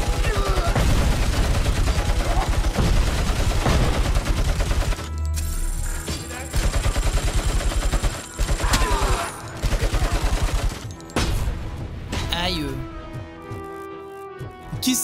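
Gunfire in RoboCop Rogue City, with rapid loud bursts of shots in clusters broken by short pauses and mechanical effects, while a voice talks over parts of the fight.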